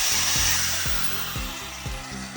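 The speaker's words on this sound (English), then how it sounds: "So this is her with a grinder." An angle grinder shrieks steadily as it cuts the head off a bolt on the crossmember of a 1954 convertible frame, loud and close, with periodic low thumps beneath the high whine.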